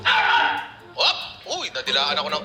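Dogs barking in short yips and whimpering cries, loud and close, mixed with a clattering kitchen background.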